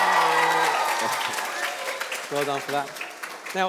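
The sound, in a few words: children cheering for Match of the Day magazine visitors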